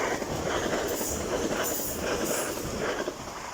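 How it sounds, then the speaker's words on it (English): An LNER train to Edinburgh passing through Durham station, a loud close rush of wheels and rail noise with rhythmic clatter and some squealing, steady across a few seconds with no talk. "Next service pass through is LNER service after Edinburgh."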